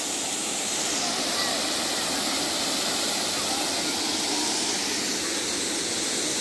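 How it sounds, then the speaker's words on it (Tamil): Water at Thaiyur Lake rushes and flows in a continuous broadband hiss, loud and unbroken for several seconds. "தண்ணி வந்துட்டே இருக்கு."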